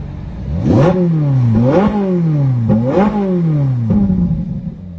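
Naturally aspirated Ferrari 458 Italia engine blipped hard three or four times in a row, each rev rising sharply and falling away, loud and close with no voices.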